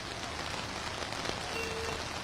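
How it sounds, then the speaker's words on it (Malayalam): Heavy rain pouring down over Kochi city during a thunderstorm, a steady, faint, even hiss of rainfall with no distinct thunderclap and no voices. "ഇടിമിന്നലോടുകൂടിയ ശക്തമായ മഴയാണ് ഇപ്പോൾ കൊച്ചി നഗരത്തിൽ ലഭിച്ചുകൊണ്ടിരിക്കുന്നത്"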